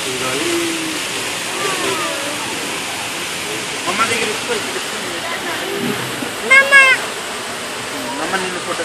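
Indoor hotel waterfalls that form part of a pond filtration system give a steady broadband rush of falling water from start to finish, with people talking over it.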